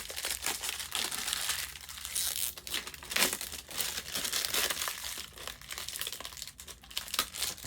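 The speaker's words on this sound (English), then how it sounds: "we're gonna rip this wrapper off here so you can satisfy you with some crunching" Plastic wrapper crackles and crinkles as it is ripped off a Louisville Slugger Supra baseball bat, a dense continuous rustle with sharp tearing bursts, close and fairly quiet.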